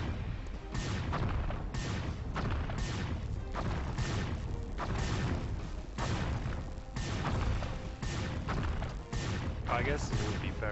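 Gunfire in the shooter game Geist, rendered as dense, rapid bursts of loud shots and booms repeating throughout, with a continuous crashing battle din and no speech.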